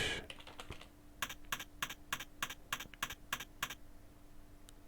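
Fast bursts of computer keyboard typing, a quick flurry of keystrokes followed by a steady run of about ten evenly spaced, crisp clicks, close and fairly quiet with no talking.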